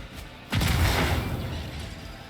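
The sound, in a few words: grenade explosion in video game Warhammer 40K Rogue Trader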